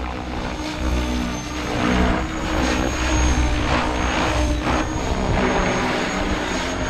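RC helicopter with a Mikado Vbar flybarless unit hovering during gain tuning, a loud continuous rotor buzz and whine with gentle pulsing swells, nearby and with no talk.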